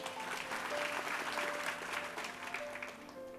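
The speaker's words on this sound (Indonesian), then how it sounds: "kasih tepuk tangan untuk Tuhan dulu" A crowd applauds steadily for a few seconds, a dense, loud wash of clapping that holds level throughout.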